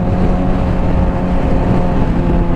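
Honda CBR600RR motorcycle engine pulling steadily in third gear on a street ride, a loud, continuous close-up roar with a low droning rumble and no voices.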